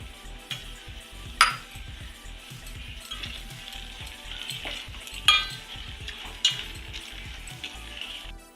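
Sugar being added and stirred into rava fried in ghee in a pan, with repeated scraping and stirring strokes, soft sizzling and a few sharp metal clanks of the spoon against the pan, close up and with no talking.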